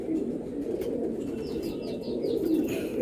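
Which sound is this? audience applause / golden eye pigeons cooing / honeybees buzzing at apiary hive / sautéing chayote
golden eye pigeons cooing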